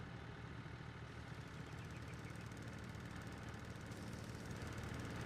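A Mack truck engine in a Thunder Creek mod of a logging game revs steadily while fuel is pumped, a continuous rough, knocking drone that stays loud and even throughout with no talk over it.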